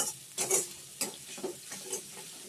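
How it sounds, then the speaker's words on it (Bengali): Black cumin and fried pomfret fish sit in a pan with a faint, quiet sizzle, and several soft utensil clinks and stirring taps come at irregular intervals. "কালো জিরে দিয়ে দিলাম। এই যে মাছটা ভেজে রেখেছি, পমফ্রেট মাছ।"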